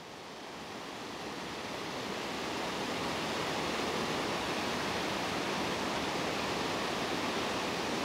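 Water pouring out of Deenethorpe Lake into Willow Brook in Northamptonshire, a dense, steady rushing roar that swells slightly over the first few seconds and then holds loud and constant, with no voices.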